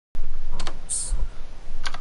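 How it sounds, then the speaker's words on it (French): Close, steady clatter of computer keyboard keys being typed on, quick irregular clicks continuing throughout with a faint voice in the background. "On entend ou pas le bruit de mon clavier?"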